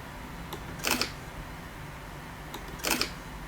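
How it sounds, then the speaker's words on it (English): Two camera shutter clicks a couple of seconds apart, each a crisp double snap over faint background hiss. "Or I can just I can hit the shutter release."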